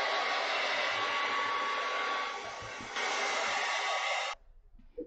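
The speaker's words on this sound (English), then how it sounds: "it's totally fine to use a hair dryer or buy a new one and never use it on your hair" A hair dryer on a warm, high setting blows over sheets of rice paper, a loud, close, steady roar that dips briefly midway, then cuts off abruptly near the end.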